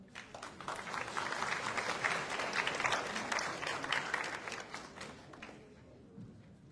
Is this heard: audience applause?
yes